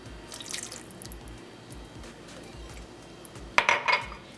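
Water trickles and splashes quietly into a pot, with faint clinks of cookware and a brief louder splash near the end.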